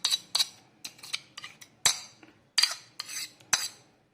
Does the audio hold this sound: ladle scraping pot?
yes